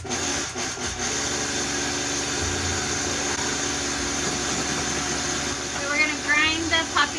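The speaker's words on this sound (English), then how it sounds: "Grind the poppy seeds till they're fine." A grinder reduces poppy seeds to a fine powder with a steady, loud droning whir that holds throughout, while a voice briefly talks over it near the end.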